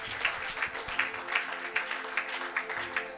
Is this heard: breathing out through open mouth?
no